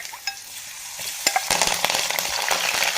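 Garlic hitting hot oil with mustard and cumin seeds, a quiet start with a few clicks before a loud, dense crackling sizzle takes over and continues close up, no talk.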